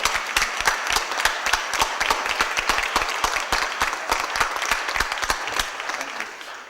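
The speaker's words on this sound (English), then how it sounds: "Let's give them a big round of applause and congratulations." A crowd claps for St. Louis interns at a Board of Aldermen meeting, a dense, steady applause with distinct sharp claps close by, fading slightly at the end.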